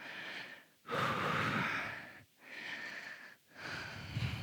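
Deep, audible breaths during a yoga sculpt workout, three long inhales and exhales close to the mic, each a broad airy rush with brief quiet gaps between.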